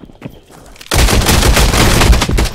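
Gunshots hitting the player in the VR battle royale Contractors Showdown, with a sudden loud barrage of rapid automatic fire erupting close by after a brief quiet start and hammering on continuously.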